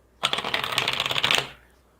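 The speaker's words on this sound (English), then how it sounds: "while Dawn shuffles her cards" A deck of cards is riffled in one quick, close, crackling burst of about a second during a psychic reading session, with no talk over it.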